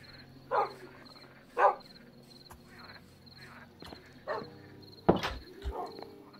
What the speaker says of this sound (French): J'ai vu un chien là-bas, non?